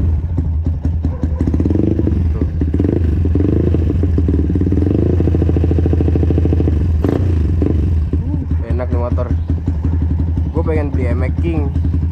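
A Yamaha MX King motorcycle engine, bored up to 180cc, rumbles and revs repeatedly up close while someone talks over it throughout.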